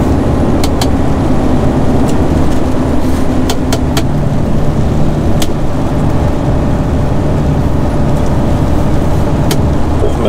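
A vehicle rolls slowly over a bridge, its engine a steady, loud, close rumble with scattered sharp knocks and clicks as it crosses.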